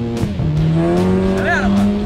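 An Audi TT accelerates hard into a curve, its engine droning loud and close as the tires squeal in rising and falling tones.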